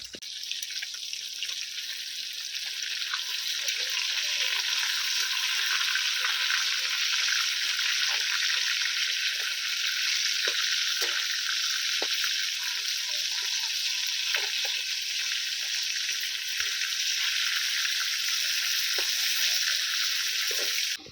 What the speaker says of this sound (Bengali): উল্টি পাল্টি ভালো করে লাল লাল করে ভেজে নেবো